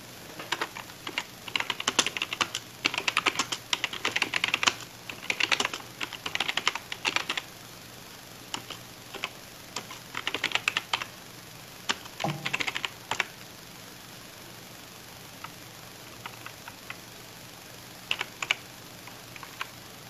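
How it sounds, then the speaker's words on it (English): Text is typed on a computer keyboard for an Altair 8800 kit setup, bursts of quick, close key clicks separated by pauses, busiest early and sparse toward the end. "And we can start typing in text."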